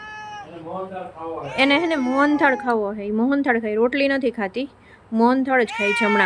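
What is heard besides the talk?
cat meowing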